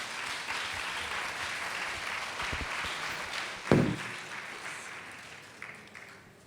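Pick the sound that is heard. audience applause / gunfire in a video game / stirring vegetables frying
audience applause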